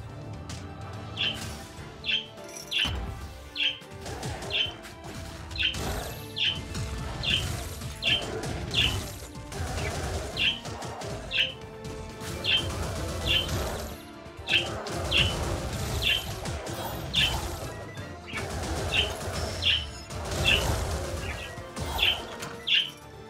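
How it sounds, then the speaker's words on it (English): Pet birds call loudly in repeated sharp chirps and squawks at a steady rhythm, with fluttering wing flaps beneath a dense, busy background of game music and sound effects. "the one downside to having birds as pets is that when they feel the need to communicate with others, they tend to do so as loudly as possible"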